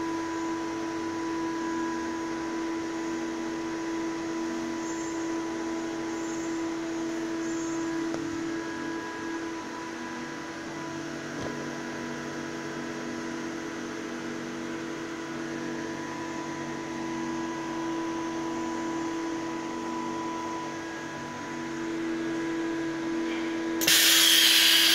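An industrial vacuum forming machine for thick plastic sheet runs with a steady mechanical hum and tonal drone, small clunks scattered through, and a sudden louder burst of noise at the very end.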